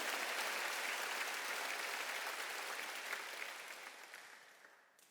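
A congregation applauds during a Korean church's Wednesday worship service, a dense wash of many hands clapping together that holds steady and then gradually fades away toward the end.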